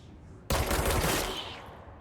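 Magic gun from the video game Control fires in a sudden loud burst of rapid gunfire that starts abruptly and then trails off into a lingering, fading echo.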